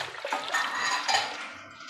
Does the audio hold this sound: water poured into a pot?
yes